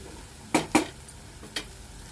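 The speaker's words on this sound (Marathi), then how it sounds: "आता आपण याच्यामध्ये शेंगा आणि बटाटे घालून घेऊया" Drumstick pieces and potatoes going into frying masala for a Maharashtrian shenga-batata bhaji give a few sharp clattering drops and scrapes against the pan, two close together then one more, over a faint sizzle.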